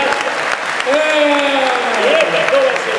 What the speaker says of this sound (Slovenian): Ste čudovita publika, en aplauz za vas